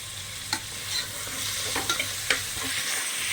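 Onions sauté in a pan for tomato rice, with a steady soft sizzle under a few scattered scrapes and taps of a stirring spoon, close and moderately quiet.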